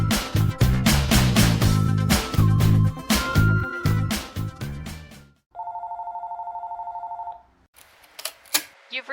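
A telephone bell rings loudly in fast, repeated metallic bursts, then a steady electronic tone holds for about two seconds before a short beep and a voicemail greeting begin.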